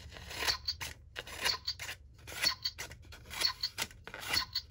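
Novelty talking scissors are worked close up in repeated cycles of about five crisp snipping bursts, roughly one per second, each with a bright crunchy edge.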